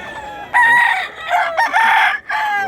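Rooster crowing at a chicken expo, two or three loud, close, drawn-out crows in quick succession, standing out clearly over a quiet background.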